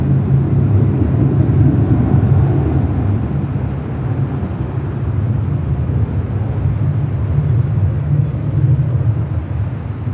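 A Delta Airlines Boeing 757-300 at LAX taking off, a loud continuous low jet roar with broadband rumble holding steady throughout, distant but powerful.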